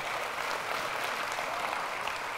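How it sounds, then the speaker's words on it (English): An audience at a church sermon gives a steady round of applause, dense clapping that fills the whole brief moment with no pause. "You can have a round of applause."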